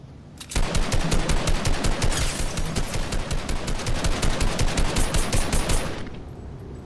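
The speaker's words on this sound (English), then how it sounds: "I just got sniped at." A rapid, evenly spaced stream of gunshots fires for about five seconds in a Fortnite match, loud and close, beginning abruptly and stopping cleanly with no talking.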